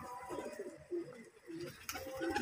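Murshidabadi Giribaz pigeons give short, soft coos in quick succession at close range, with a sharper burst near the end.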